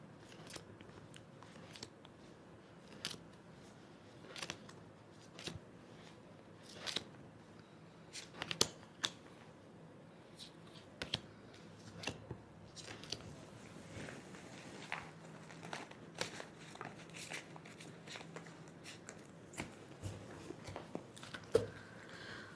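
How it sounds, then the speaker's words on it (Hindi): Tarot cards being shuffled by hand, with soft irregular flicks and riffling taps scattered across a quiet room. "तो ये कार्ड्स को शफल करके ही निकालती हूँ।"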